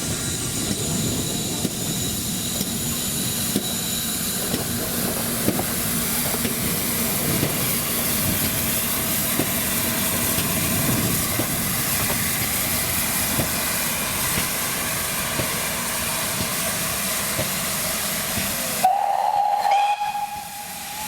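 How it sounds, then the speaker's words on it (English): A Great Western Railway steam locomotive, Pendennis Castle, lets out a long, loud, continuous whistle over a heavy steam hiss that lasts about nineteen seconds and then cuts off abruptly, leaving a brief quieter tail. "like the other Great Western engines, also has a high tone and a low tone whistle."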